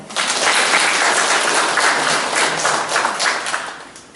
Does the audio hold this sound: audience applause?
yes